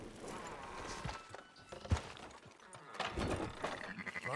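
Sheep bleating in the western video game Red Dead Redemption 2, several nearby bleats scattered across the scene with hoof clops and livestock shuffling, while voices talk intermittently.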